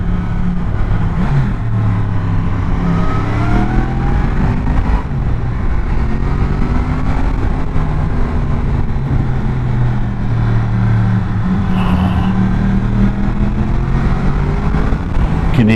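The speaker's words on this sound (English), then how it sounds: "You can hear my bike echoing off the wall." A motorcycle engine on a tour through the Picos mountains roars loud and close, its pitch rising and falling as it accelerates and shifts, with a reverberant echo off a nearby wall.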